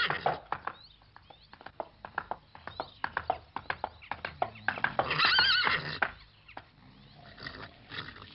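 A horse whinnies loudly and close, with clopping hooves and snorts, in a French animated adventure; short stamping thuds repeat between the calls.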